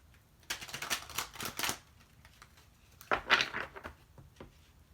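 Playing cards being shuffled, two short bursts of quick riffling clatter about two seconds apart, close and fairly quiet in an otherwise still room.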